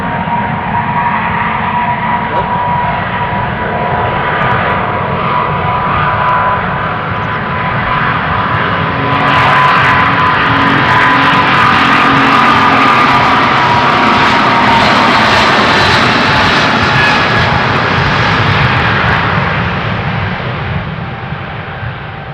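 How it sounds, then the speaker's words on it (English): A Delta Airbus A330 jet roars loudly and continuously as it takes off from runway 36L Polderbaan at Amsterdam Schiphol, the engine noise swelling midway and then slowly easing. "Following it, an A330 from Delta. Let's see if it's going to take off"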